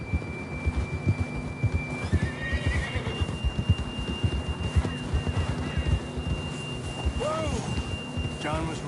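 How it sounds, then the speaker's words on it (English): Horses in a cowboy video game whinny and neigh amid steady galloping hoofbeats, with wind and a game score underneath; the neighs rise clearly near the start and again toward the end. "John was riding that horse when we left Blackwater."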